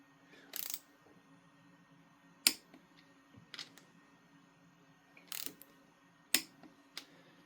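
Sparse, sharp mechanical clicks from a torque wrench tightening the pistons of a Mini Cooper S engine during a rebuild, a few isolated snaps spaced seconds apart over a quiet workshop hum.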